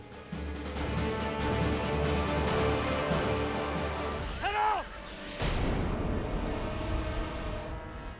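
Gunshots fired on command in a Hindi historical TV drama, a heavy blast followed by a second burst amid shouting voices and dramatic background music.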